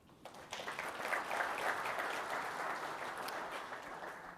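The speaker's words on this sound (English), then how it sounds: "it's worth a round of applause" Applause from a conference audience, a dense wash of many hands clapping that swells quickly and holds steady at moderate loudness throughout.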